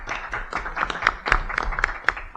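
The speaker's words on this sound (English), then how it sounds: "I would like to give you a round of applause" A small crowd applauds the invited experts at a city council meeting in a room, a steady patter of many hands clapping at moderate distance with no speech.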